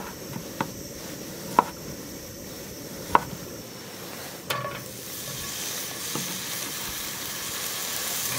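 Lardons sautéing in a hot frying pan give a steady, fairly quiet sizzle, broken by a few sharp pops and clicks and a soft scrape or stir partway through; no one speaks.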